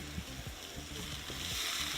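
Ground meat for keto Cornish pasties sizzling steadily in a pan, with a utensil scraping and chopping through it in irregular close strokes.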